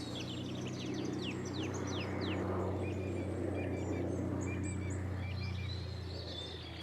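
Rich, varied nightingale song of rapid whistles and trills rings out over a low steady background hum, with other faint chirps around it.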